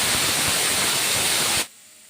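A pressure cooker cooking mint rice vents steam in a loud, steady, broadband hiss that holds for about a second and a half, then cuts off abruptly into near silence.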